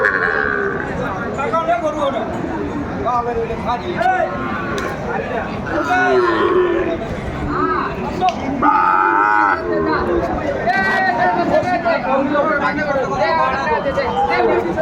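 Sahiwal calves and bulls low and moo repeatedly at a busy livestock market, loud and close, with bleating and constant chatter and bargaining voices all around.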